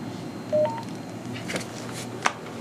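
Short DTMF phone patch tones from a Motorola full-feature LCD mic on an XTVA vehicular adapter: a couple of brief, fairly faint beeps over low background hum, then a small click.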